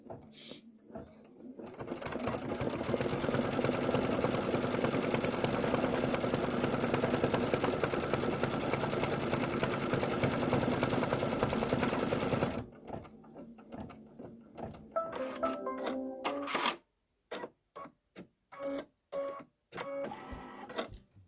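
Embroidery sewing machine stitching appliqué truck tires for a Kimberbell pickup truck design, a steady, fast mechanical chatter for about ten seconds, then short stop-and-start bursts of stitching.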